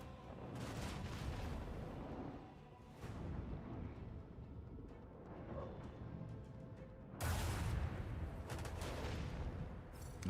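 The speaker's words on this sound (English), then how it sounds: "I want to hear the macro cannons roar. Unleash a barrage of destruction." Rapid barrage of macro cannon fire from Rogue Trader, a dense, roaring run of booming shots that swells in bursts, loudest near the end, with no talk over it.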